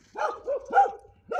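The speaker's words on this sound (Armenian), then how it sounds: "Տեսեք, թե ինչպես է նա հաչում։" A dog barks close by, three or four sharp barks in quick succession with short gaps between them, loud and alone.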